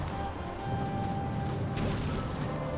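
Meteorites smash in Super Mario Galaxy 2, producing a continuous dense crashing rumble with mechanical clatter that swells slightly toward the end, loud and close with no voices.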